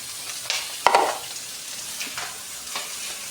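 Raw chicken laid skin side down into a hot pan sizzles with a sharp burst of frying, then settles into a steady crackling hiss with a few clinks and scrapes, close and alone.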